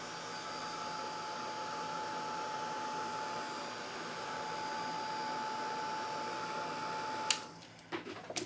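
A heat tool blows steadily over foil laid on alcohol inks, a moderate continuous whir that cuts off near the end, followed by a few light clicks and handling sounds.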